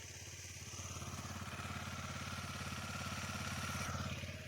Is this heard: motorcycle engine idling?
yes